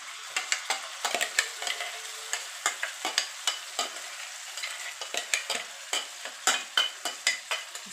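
A paste of onion, tomato, coriander and green chili fries in a kadhai over ginger-garlic, with steady sizzling and repeated spoon stirring and scraping clicks throughout.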